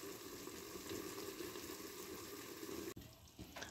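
Liver braising in a pan with apple and onion, giving a faint, steady sizzling hiss that cuts off abruptly near the end and then returns softly.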